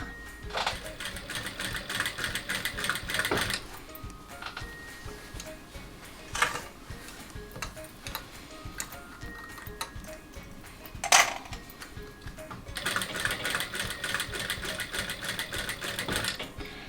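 A sewing machine stitches the seam of a tote bag, running in two sustained, fairly loud bursts of rapid rhythmic needle chatter with a quieter pause between them and a couple of sharp clicks in the gap.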